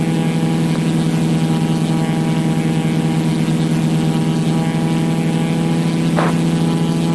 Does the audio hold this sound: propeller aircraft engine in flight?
yes